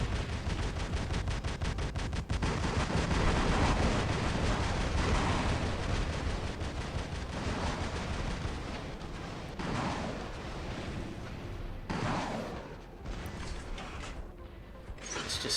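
Dense, loud gunfire and explosions from the War Robots video game pound almost nonstop, with rapid automatic bursts, heavy blasts and short dips between volleys.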